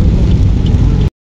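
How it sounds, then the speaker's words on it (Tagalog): Heavy rain pours down hard and close, a loud, dense, unbroken roar with deep rumbling weight that cuts off abruptly. "Ayan, lakas ng ulan."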